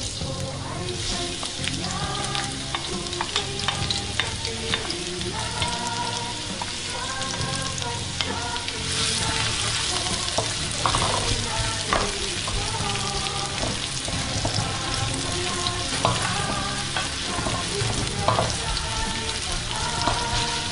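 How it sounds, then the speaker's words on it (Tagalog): Chopped onion hits hot oil in a heated pan and sizzles steadily for the whole stretch, a dense, fairly loud frying hiss with scattered crackles and pops and no talk. "mainit na yata yung aking kawali na may mantika. So, una yung onion."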